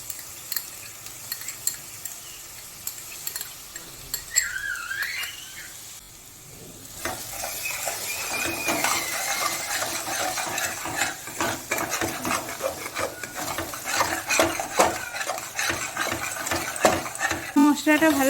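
Spice masala sautéing in a pan on low heat with two spoons of beaten sour yogurt added for a prawn and pointed gourd dolma, a steady sizzle that swells louder partway through, with scraping stir strokes throughout.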